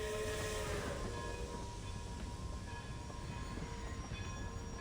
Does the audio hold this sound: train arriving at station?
yes